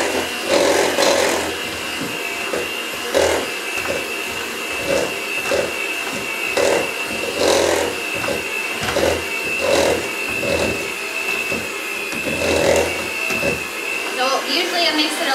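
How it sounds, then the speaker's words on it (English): A mixer whirs steadily through Nutella thumbprint cookie dough, its motor drone loud and continuous with repeated rhythmic bursts as the beaters churn, ending in a few lighter scrapes. "You're making the dough right now. So get it all mixed up."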